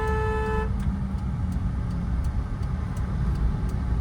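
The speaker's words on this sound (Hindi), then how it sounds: "लॉन्ग हॉर्न प्रेस करो।" A car horn held in one long, steady press in a narrow street, sounding loud and continuous for under a second before cutting off, leaving the low rumble of an idling car engine.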